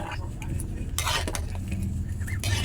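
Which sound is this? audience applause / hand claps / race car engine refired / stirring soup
stirring soup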